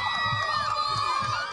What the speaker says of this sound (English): More than 100 people came to cheer for a little girl who's become an inspiration